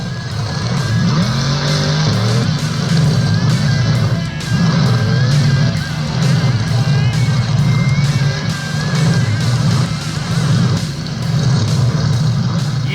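In the Monster Jam Steel Titans video game, a monster truck's engine roars steadily after a backflip, a loud sustained rumble with pulsing revs and occasional tire noise, under game crowd ambience.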